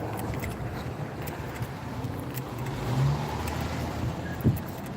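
A car idles and creeps along a street at a pedestrian crossing in Anniston in the early evening, a steady close engine rumble with a brief swell midway and a soft thump near the end.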